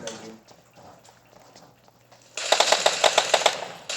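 Rapid bursts of M4 rifle fire in the mobile battle-royale game PUBG Mobile erupt after a quieter stretch, a loud, evenly spaced volley of sharp shots continuing to the end.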